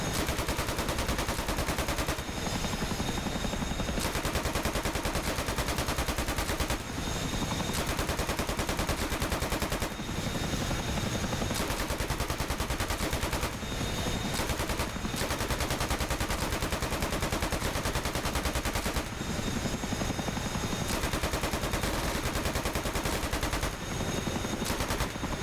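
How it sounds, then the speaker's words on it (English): Machine guns fired by AI door gunners aboard a CH-47F Chinook helicopter in DCS World, sustained rattling bursts with short gaps, steady and fairly loud over the helicopter's drone. "So there you go, all gunners engaging the targets."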